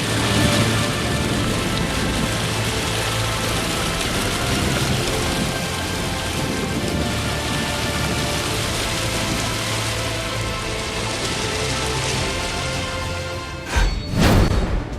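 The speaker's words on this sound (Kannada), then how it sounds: "ಮಲೆನಾಡಿನಲ್ಲಿ ಭಾರೀ ಮಳೆಯಾಗುತ್ತಾ ಇದ್ದು" Heavy monsoon rain in the Malenadu hill region pours down steadily, a dense, loud hiss of drops on surfaces with a brief rumbling swell near the end.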